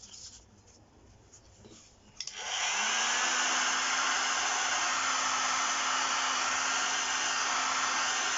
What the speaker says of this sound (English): when I heat the foam.